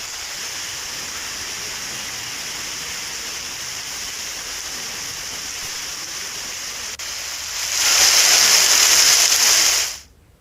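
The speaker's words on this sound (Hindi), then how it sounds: "तेज हवा के साथ देखिए बारिश किस कदर होती हुई" Heavy rain driven by strong wind during Cyclone Yaas in Khagaria, Bihar, a steady broadband hiss that surges louder for a couple of seconds near the end before cutting off.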